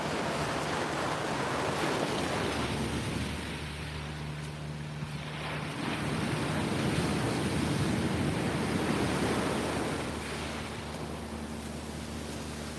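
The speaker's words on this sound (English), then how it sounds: "the waves are crashing" Ocean waves roll onto a California beach with steady, broad surf noise that swells and fades, mixed with a low engine-like drone and some wind, and no talk.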